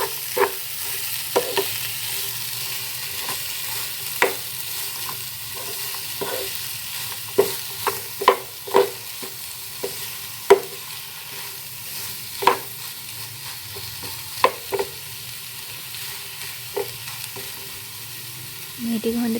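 A spoon stirs chicken and spices in a frying pan: irregular scrapes and taps ring out over a low, continuous sizzle, close by, with no voices.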